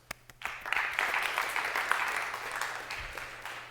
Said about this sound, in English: let's give a round of applause for our at-home winner, Aaron Roberts